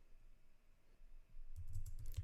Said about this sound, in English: I want to get some input from the keyboard